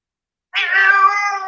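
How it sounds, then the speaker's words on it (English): A domestic cat meows once outdoors, a loud drawn-out wail that starts abruptly after brief silence and holds steady close to the microphone. "Oh, that's my cat."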